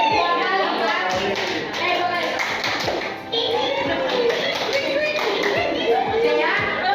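Children clap a 'tepuk malam' pattern together, with crisp, close handclaps falling in quick rhythmic clusters among lively kids' voices that chant and talk over them.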